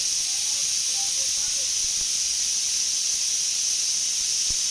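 Steam hissing continuously and loudly from a pressure cooker whistle, a steady high rushing jet with no breaks, alone with no talk.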